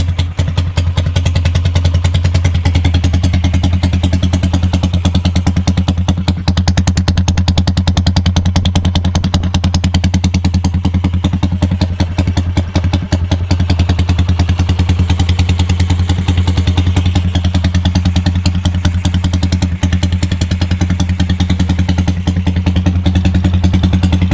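A Honda TMX 155 motorcycle engine warming up at idle, a loud, close, steady low thrumming putter with rapid regular firing pulses and slight clatter, continuing unbroken for the whole stretch with no talk.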